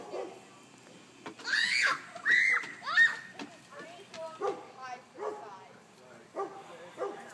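A dog yips and barks in short repeated bursts at a toy helicopter while a person talks excitedly nearby.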